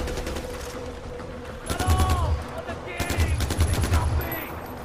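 Bursts of automatic gunfire from the video game Far Cry 4, two rapid volleys of close, loud shots with a low rumbling background between them, no talk.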